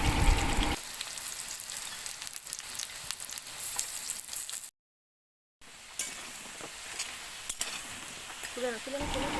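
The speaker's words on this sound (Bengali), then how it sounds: "তাই সময় নিয়ে ভালো করে কোপ্তাগুলো ভেজে নেবেন" Oil sizzles steadily as raw-banana koftas fry, likely over a clay stove, broken by a brief silent gap, with a few clinks and faint sounds over the crackling hiss.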